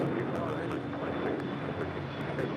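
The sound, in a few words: airliner taking off from LAX runway 25 right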